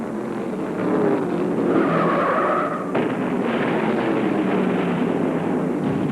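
A 1975 NASCAR race car at Martinsville Speedway loses control into the first turn, with a loud, sustained engine roar and a squealing tire skid rising and cutting off midway before the engine noise continues.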